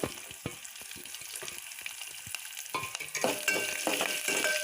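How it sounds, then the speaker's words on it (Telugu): Onion pieces and curry leaves frying in oil in a pan for a gobi tomato curry, a steady close sizzle with small crackling pops that grows slightly louder toward the end, with no talking. "ఇది కొంచెం ఫ్రై అవ్వనివ్వాలి ఆనియన్ ఫ్రై అయిపోయాయి"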